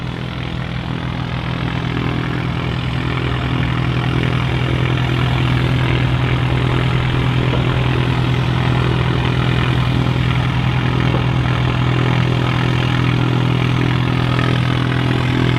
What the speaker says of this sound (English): Aircraft on final, by the way.